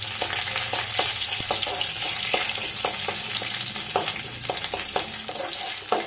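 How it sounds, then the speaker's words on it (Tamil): Garlic and ginger sauté in hot oil for a simple pasta dish, a steady close sizzle with spatula taps and scrapes sounding at a loose, regular pace. "ஒரு 4 பல்லு பூண்டு ப்ளஸ் வந்து ஒரு இஞ்சி பொடியாக கட் பண்ணி சேர்த்துக்கலாம். கொஞ்சம் நல்லா வதக்கிக்கலாம்"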